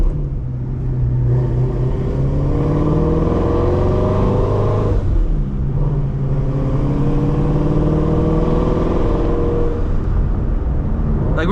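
A 2018 twin-turbo Shelby GT350 V8 roars loudly and steadily while driving, its revs climbing in long sweeps, dropping briefly at a shift, then pulling up again, heard from inside the car.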